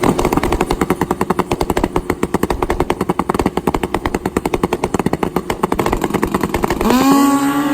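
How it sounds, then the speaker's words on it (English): Drag racing motorcycles, a turbocharged Kawasaki ZX-14R and a nitrous Suzuki Hayabusa, hammer off the line with a loud, rapid staccato engine rattle, then a rising whine as they pull away down the track. "Oh, whole shot Jason. He goes 0-12 on the tree, looking for 789"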